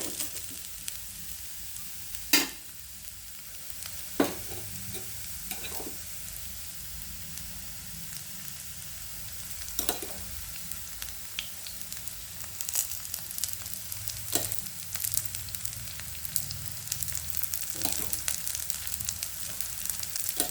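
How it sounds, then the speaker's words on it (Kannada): Yenne rotti, an oil-soaked flatbread, cooks in plenty of oil on a pan with a steady soft sizzle and fry crackle, broken by a few sharp clicks or taps spread through the stretch. "ಸ್ವಲ್ಪ ಎಣ್ಣೆ ಜಾಸ್ತಿ ಹಾಕೋದ್ರಿಂದ ಅದು ಏನು ಎಣ್ಣೆ ಒಸರಲ್ಲ ಎಲ್ಲ ಹೀರ್ಕೊಂಡು ಬೇಯುತ್ತೆ"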